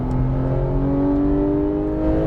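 A GT3-class sports car accelerates steadily on a racetrack under maintenance throttle, its engine note rising smoothly and continuously, loud and close from inside the car, with no speech.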